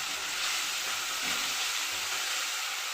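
Onion and tomato fry in a pan with salt, giving a steady close hiss and sizzle for a few seconds with faint stirring underneath, no voices.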